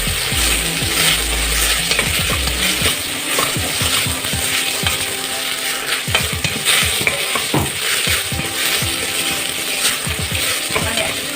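Chicken curry with chopped tomatoes stirred through it in a pan, a spoon scraping and clacking repeatedly against the metal over a steady background sizzle, close and fairly loud, with no talking.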